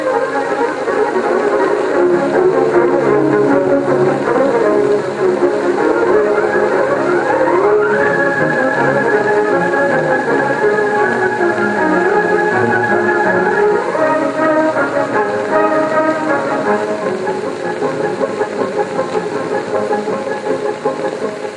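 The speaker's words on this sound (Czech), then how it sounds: "zařadíme třetí rychlost." A Czech M131.1 diesel railcar engine drones loud and close while running in third gear, with a steady mechanical rumble and a rising then levelling tone as revs change, without any talk over it.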